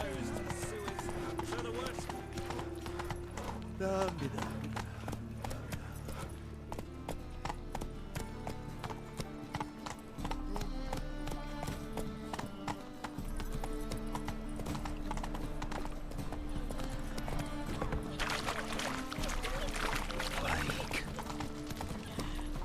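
Horse hooves clip-clop steadily in a video game, with a horse neighing at times, under almost constant talk and a busy music and sound-effect bed.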